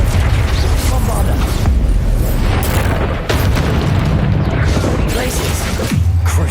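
Bombarda and Confringo spell explosions in the Hogwarts Legacy video game, a dense run of loud booming blasts and crashes one after another, under a voice calling out.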